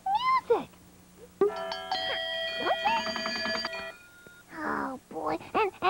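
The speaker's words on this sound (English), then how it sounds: "bells are everywhere, and they sound just like music." Bells ring in a bright cluster of sustained, chiming tones, mixed with short playful vocal sounds and talking before and after.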